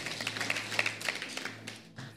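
Church congregation clapping along during a sermon, a brisk run of sharp hand claps with an uneven rhythm that thins out toward the end, fairly close and with no talking.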